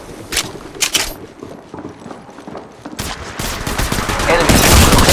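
Automatic weapon fire from the Apex Legends Mobile game: rapid crackling bursts, with a louder, denser volley building toward the end over steady background game noise.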